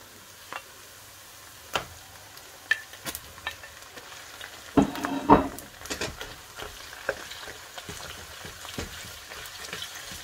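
Minced meat hitting a pan of softened, cooked onion, giving a low steady sizzle with scattered clicks and stirring scrapes and a louder burst of spatter partway through, close by with no talking.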